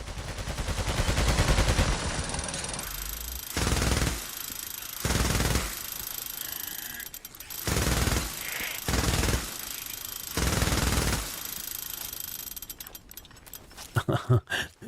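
Bursts of gunfire in the video game Days Gone Remastered, five or six loud sustained volleys separated by quieter gaps, ending in a few sharp isolated shots.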